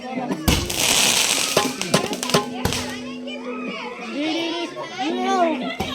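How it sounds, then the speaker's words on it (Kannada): Sharp firecracker bangs burst nearby during a Ganesha festival, several loud cracks scattered among children shouting and people talking. "ನೋಡಿ ಅಲ್ಲಿ ಪಟಾಕಿ ಬೇರೆ ಹೊಡಿತಾ ಇದಾರೆ"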